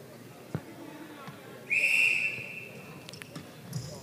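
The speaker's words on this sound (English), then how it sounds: "Umpire's whistle again." A netball umpire's whistle at a World Cup qualifier match sounds once, a short sharp blast of about half a second over the faint hum of the indoor arena, with a few soft thuds around it.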